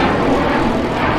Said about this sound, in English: It's a fighter jet flying over the speedway.